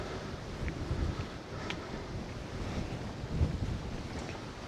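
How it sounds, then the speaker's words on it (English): Strong outdoor wind buffets the microphone on a coastal walk at Costa Teguise, a steady loud low rumble with gusting surges and no voices. "That wind is savage again."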